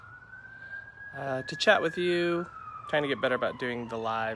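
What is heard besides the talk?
emergency vehicle siren passing outside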